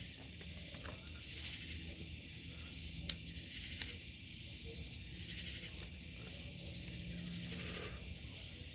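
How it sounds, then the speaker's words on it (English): Frogs calling at night in a driveway form a faint, steady background chorus of high chirping, with a couple of brief sharp clicks rising above it. "JJ, these frogs, you can hear them, I'm sure, in the background"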